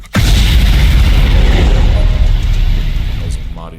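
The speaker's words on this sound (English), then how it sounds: "was a mighty loud explosion" A loud explosion sound effect within a symphonic metal song, a huge booming blast that hits at once and sustains as a dense roaring rumble before slowly thinning out.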